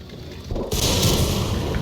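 A tank shell strikes armor in World of Tanks on a Centurion Hybrid 120, a sudden loud heavy impact that cuts in partway through and leaves a dense rumbling wash of battle noise.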